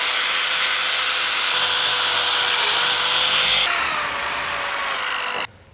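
A power drill bores into a wooden step, a loud sustained whine that shifts pitch partway through and then cuts off abruptly near the end.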